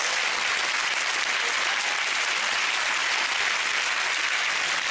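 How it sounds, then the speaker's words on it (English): A studio audience applauds Shaun Wallace on a sports quiz show, a dense, even wash of clapping that holds steady throughout. "Your round of applause, Shaun Wallace, everyone."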